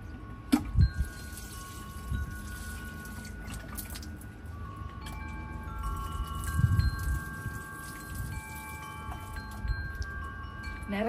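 Water poured onto potted garden plants in a home garden, splashing and trickling in soft bursts with occasional drips, moderately near and alone with no talk.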